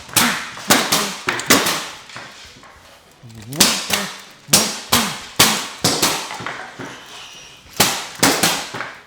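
Punches land on a wooden pell training post in quick clusters of sharp, hard knocks, close and loud with uneven rhythm and brief pauses between flurries, with a voice talking over parts.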